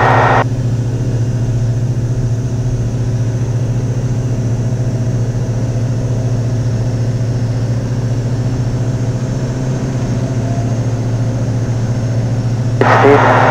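A Diamond DA40NG aircraft engine drones steadily and loudly during the takeoff roll, a constant close hum that shifts slightly just before the end.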